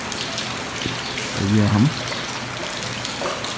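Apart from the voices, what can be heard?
heavy monsoon rain in Himachal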